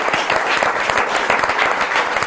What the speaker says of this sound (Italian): Un applauso a Gianfranco Bardella.